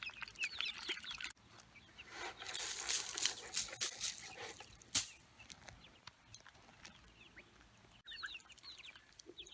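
Chickens and young chicks cluck and peep around a backyard coop, scattered calls rising and falling over a steady outdoor hiss, with a louder burst mid-way and no talking.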